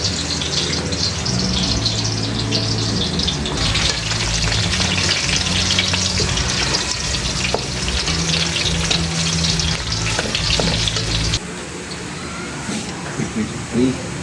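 Onion and garlic, already browning, fry in a pan for duck caldereta, a loud, steady sizzle with stirring throughout, under a voice that talks at times.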